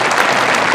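Brief burst of audience clapping at a Punjabi comedy team's YouTube Silver Award celebration, dense and steady for under a second with no voices.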